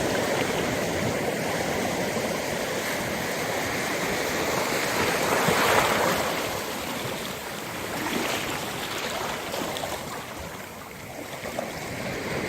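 Waves washing onto a lake shore make a steady, full rushing wash with gentle swells in loudness, continuous and moderately near, with no voices.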